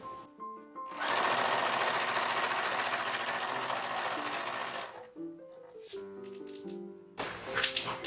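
A sewing machine stitching a skirt placket opening on a historical-style dress, running loudly and steadily for about four seconds, with short quieter bursts of machine motor and clicking before and after.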